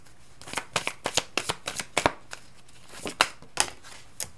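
Tarot cards shuffled by hand during a reading, a quick run of crisp riffling bursts, close and fairly loud, with short pauses between.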